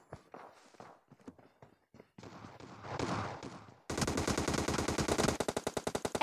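Gunfire in the mobile battle-royale game PUBG Mobile Lite: scattered sharp shots and footsteps give way to sustained rapid automatic bursts, then a string of distinct rhythmic single shots at the end, close and loud with no talking.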